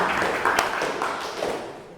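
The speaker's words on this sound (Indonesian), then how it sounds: "Kasih aplaus dulu Habib." Audience applause for Habib at a lecturer certification teaching session, a steady wash of many hands clapping that stays loud throughout and then tapers off slightly at the end.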